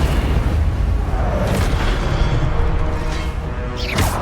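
Incendio fire spell cast in Hogwarts Legacy, a loud, dense roaring burst of flame that rumbles continuously, then ends with a sharp whooshing flare.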